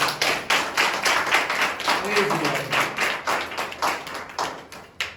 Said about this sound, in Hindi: आइए परमेश्वर के लिए जोरदार ताली बजाएं।